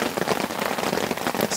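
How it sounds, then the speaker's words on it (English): Heavy rain drums steadily on a tent at a camp, a dense unbroken patter of drops close overhead with no voices. "This rain's coming down pretty relentlessly now."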